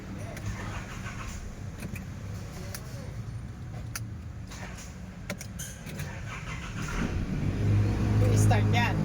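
An Isuzu Trooper engine with a check-engine fault is cranked but fails to start, ending in a rising low churning after keys jangle and faint cabin clicks, with people talking throughout.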